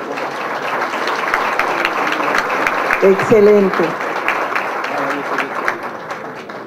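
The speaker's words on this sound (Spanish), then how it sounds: "les aplaudimos aquí" An audience at a business opportunity meeting claps for first-time attendees, a steady wash of applause under a brief spoken word from the stage.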